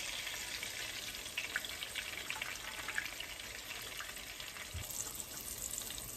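Eggplant slices frying in a home kitchen pan give a steady, close crackling sizzle throughout, with no voices.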